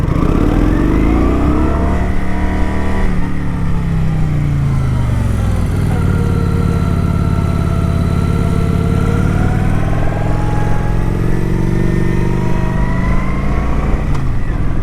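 A cruiser motorcycle engine held loud and close throughout as it leans through street corners, its steady throbbing drone rising and falling in pitch as the rider shifts and eases off the throttle between turns.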